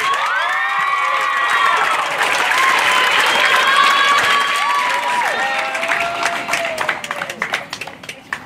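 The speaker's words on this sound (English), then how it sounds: "let's give a round of applause to this year's valedictorian, Miss Savon Calvo." A graduation ceremony crowd breaks into loud, sustained applause with cheering and whoops, steady for several seconds before thinning into scattered clapping toward the end.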